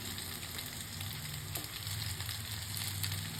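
A white sauce pasta mixture fries in a pan, giving a soft, continuous sizzle with light stirring, fairly quiet and close, with no voices.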